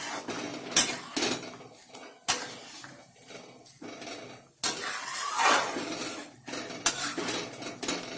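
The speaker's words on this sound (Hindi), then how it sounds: "इसमें जो मैंने कोफ्ते तले थे इसे डाल दे रही हूँ। इसे चला दूंगी।" A utensil scrapes and clinks against a pan while fried lauki koftas are stirred into curry, steady scraping punctuated by sharp metallic knocks, close and fairly loud with no talking.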